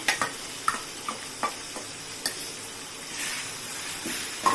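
Ginger and garlic frying in oil for a Tamil fish gravy, a low steady sizzle with a few sharp spoon taps against the pan, close up and without talk.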